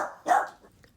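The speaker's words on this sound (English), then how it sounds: "I was going to cut the barking out" A dog barks once indoors, a single sharp close bark during a beading necklace tutorial at home, followed by faint room noise, with no speech.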